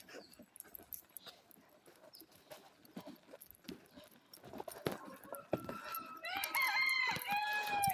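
Roosters crow in the last couple of seconds, loud and close, after a stretch of scattered clucking and scuffling from a flock.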